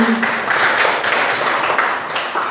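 An audience applauds for Pak Roji at a teachers' session, a steady patter of many hands clapping at moderate loudness throughout, with light voices mixed in.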